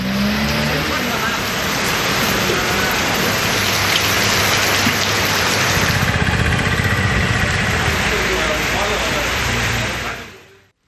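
Heavy night rain falls steadily across a Tamil Nadu area, a dense unbroken roar of downpour that holds the same level for about ten seconds before cutting off abruptly.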